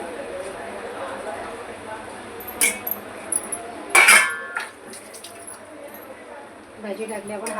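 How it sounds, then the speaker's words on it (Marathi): Vegetables being stirred in a pan for veg Kolhapuri curry, with soft scraping over a low background and a few bright metallic clinks and clatters of a spoon against the pan. "भाजी टाकली, आपण हलवून घेऊया त्याला मस्त"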